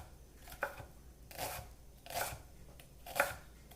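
Knife chopping through an onion on a cutting board, four crisp slicing strokes spaced about a second apart, close and clear with no talking.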